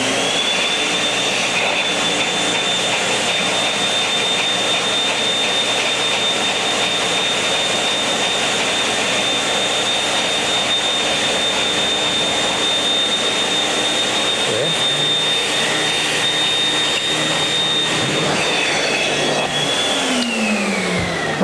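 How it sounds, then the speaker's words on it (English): A carpet cleaning vacuum runs continuously on carpet, a loud steady high-pitched whine with broadband suction roar that shifts and winds down near the end, with a voice speaking briefly over it. "if you'll hit my vacuum."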